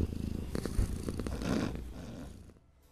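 A cat purrs steadily and close while cuddling and kneading a sleeping pig on a farm, with a low continuous rumble broken by soft rhythmic pulses before fading out at the end.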